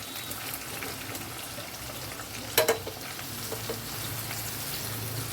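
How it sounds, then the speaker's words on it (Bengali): Chopped onions frying in hot oil with spices, a constant close hiss and sizzle with one brief louder clatter partway through, and no voices. "এবার আমি পেঁয়াজ কুচিগুলি দিয়ে দেবো।"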